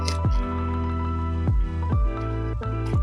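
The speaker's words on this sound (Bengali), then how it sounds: "আমি এখন জল দিয়ে দিচ্ছি" Water is poured into a cooking pot of mung dal with fish head, giving gurgling, squishy splashes in several uneven bursts, close and fairly loud.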